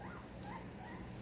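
A fawn-coated male puppy whimpers and yips softly up close, short thin whines over a steady low background hum throughout.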